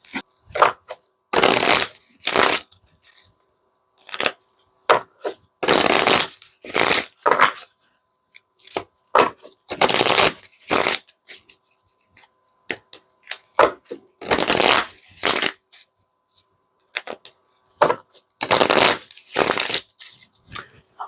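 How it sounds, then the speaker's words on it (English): Repeated bursts of playing cards being shuffled, riffling in quick rattling runs separated by short pauses, close and clear with no talking. "So let's put this back in and we'll shuffle."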